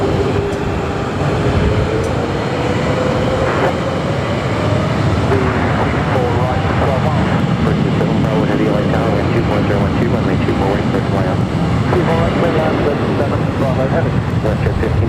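An American Airlines Boeing 777-300ER jet at LAX produces a loud, steady broadband roar that fills the whole stretch, with a faint rising engine whine near the start.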